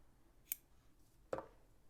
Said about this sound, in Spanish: cortamos el hilo